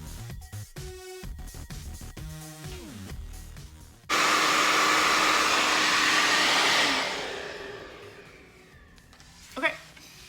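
A hair dryer with a diffuser blows steadily at the roots of voluminous curly hair, a loud continuous whoosh that starts abruptly after someone talks, then fades out with some handling noise.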